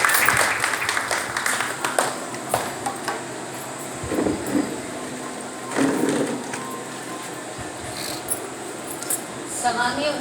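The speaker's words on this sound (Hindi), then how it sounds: "एक बार जोरदार तालियों से अनीता चौहान जी का" An audience applauds at a school function honouring board-exam merit-list students, with dense crackling clapping running throughout and voices mixed in.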